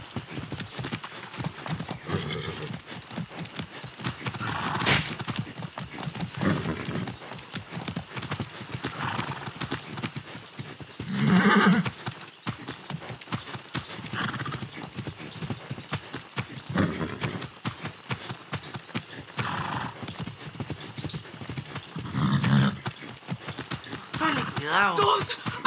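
A horse's hooves clip-clop at a steady rhythmic pace in Far Cry 6, close and continuous for the whole stretch, with an occasional whinny and some talking over it.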